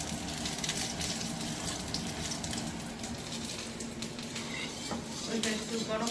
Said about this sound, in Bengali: এটাতে তেল আছে, তেল দিয়ে সুন্দর করে গুলে নিই